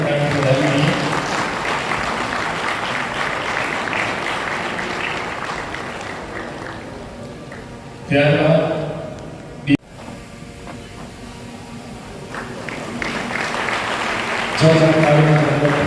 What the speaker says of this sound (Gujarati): આપણે સૌ આ અવસર જોરદાર તાળીઓના ગણગણાટ વધાવીએ